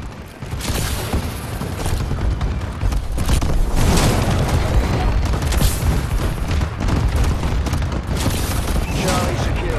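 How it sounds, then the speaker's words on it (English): Bombing-run explosions roar in a Call of Duty: Advanced Warfare online multiplayer match, a loud, continuous barrage of booming blasts and gunfire that swells around the middle and stays dense throughout, with game voice callouts mixed in. "Enemy bombing run overhead."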